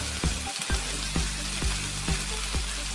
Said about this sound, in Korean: 볶는 도중 파와 고춧가루를 넣어주세요.